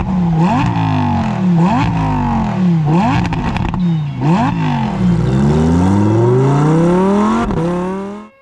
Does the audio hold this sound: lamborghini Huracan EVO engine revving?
yes